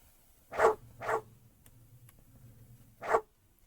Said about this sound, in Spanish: Ay, no, hay perros.